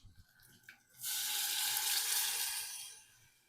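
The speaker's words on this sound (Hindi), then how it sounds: "मैं इसमें पानी ऐड कर देता हूँ, ताकि आलू थोड़े सॉफ्ट हो जाएं।" Water is poured into a hot pan of frying potato and onion sabzi, giving a sudden loud hissing sizzle that holds steady for about two seconds before slowly fading, after a quieter moment of faint kitchen sounds.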